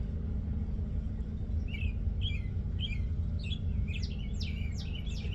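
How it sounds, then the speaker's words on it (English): Several small birds chirp at once, short bright calls starting sparsely and growing busier, heard somewhat distant over a steady low rumbling background. "there's like 5 birds talking at once"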